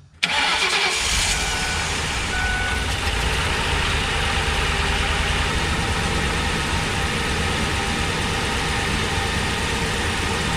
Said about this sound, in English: we'll cycle the fuel pump a couple times and make sure there's no leaks